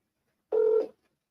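A single short electronic telephone dialing tone sounds once, clear and steady for about a third of a second against silence, then stops.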